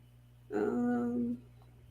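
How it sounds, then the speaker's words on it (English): A dog gives one short, high whimpering whine nearby, lasting under a second against a quiet background. "And now the dog's going to say, come back."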